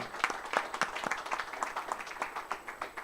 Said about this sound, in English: Can we please clap hands for him?